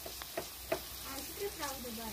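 Onions frying in a pan for homemade tomato ketchup, a quiet sizzle with a few scraping stirs, while a person talks faintly over it.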